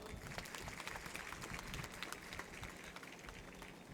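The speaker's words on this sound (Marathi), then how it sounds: "विद्यार्थिनींनी जोरात टाळ्या वाजवा." Schoolgirls applaud loudly at a bicycle distribution event for female students, with dense, continuous clapping that stays steady for a few seconds and has no talking over it.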